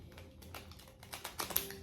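Small tarot cards are shuffled by hand, producing quick, light clicks and riffling taps that rise into a brief flurry near the end, close and fairly quiet.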